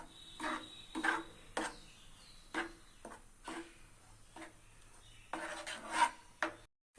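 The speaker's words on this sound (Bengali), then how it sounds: "এবার আমি নাড়তে থাকবো।" A utensil scrapes and stirs mashed potato paste in a wok in repeated short strokes with gaps between, close and fairly quiet, with no talking.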